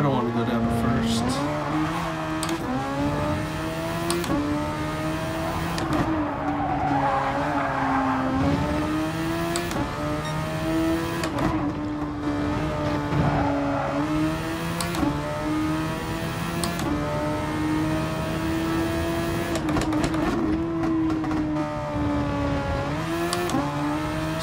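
A race car engine in Gran Turismo Sport revs and steps down through the gears, its pitch rising and dropping in a steady loop with tire squeal, while a voice talks over it throughout.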